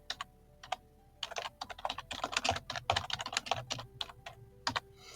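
Someone typing on a computer keyboard, quick irregular bursts of close key clicks with short pauses between them, heard alone.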